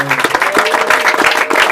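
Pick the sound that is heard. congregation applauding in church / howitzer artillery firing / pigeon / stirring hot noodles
congregation applauding in church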